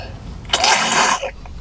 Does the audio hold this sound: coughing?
yes